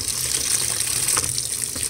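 Water gushes steadily into the drum of an LG top-load washing machine running a heavy-duty cycle with towels and socks, a continuous close rush with no pauses.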